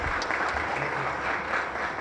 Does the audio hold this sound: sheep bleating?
no